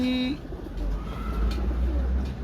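Pigeons at a breeder's loft coo in low, throaty bursts, close and fairly loud over a steady background rumble, with a short higher call at the start.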